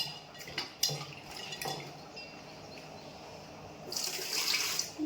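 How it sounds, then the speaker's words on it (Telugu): Tamarind is being washed in water in a kitchen, with faint splashing and the clink of a bowl or utensil, and a brief louder trickle of water near the end. "ఇక చింతపండు కొంచెం కడుక్కుని మనకి ఎన్ని చాలు కావాలో అంత చింతపండు వేసుకోవాలి."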